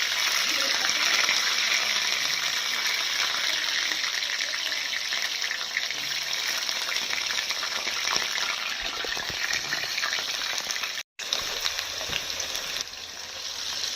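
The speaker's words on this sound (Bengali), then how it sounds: "কড়াই তেল দিয়ে আলু দিচ্ছি।" Steady, loud sizzling of potatoes frying in hot oil in a wok continues throughout, a dense hiss with a brief cut near the end.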